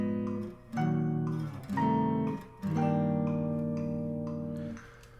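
A jazz tune, rendered in negative harmony as sustained harmonic chords that shift in several swells with brief dips between, then hold a long final chord; played alone with no voices.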